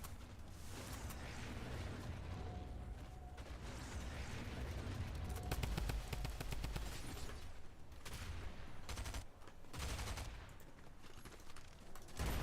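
Rapid bursts of video game gunfire crackle through a loud, dense battle soundscape, with shots and explosive clatter layered continuously across the whole stretch.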